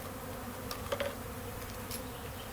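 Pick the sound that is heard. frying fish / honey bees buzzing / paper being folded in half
honey bees buzzing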